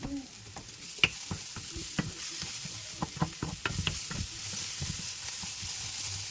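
Onions and spices fry in a pan as sausage goes in, a constant soft sizzle broken by irregular clacks and scrapes of stirring.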